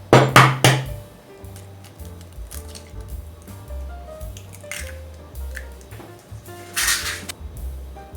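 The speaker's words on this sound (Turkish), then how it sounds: "yoğuruyorum" Hands squish and knead a meatball mixture of ground meat with grated onion and a cracked egg, making soft wet squelching and slapping sounds, with a sharp clatter at the start and quiet background tones throughout.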